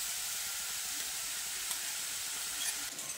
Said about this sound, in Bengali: কালার চলে আসা পর্যন্ত পেঁয়াজটাকে একটু ভেজে নিচ্ছি।